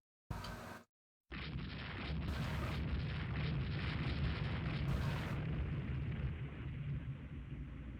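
Heavy 14-inch naval shells striking warships in Rule the Waves 2, a sharp crack after a brief gap, then a long, loud rumbling roar of impacts and explosions that holds steady without speech.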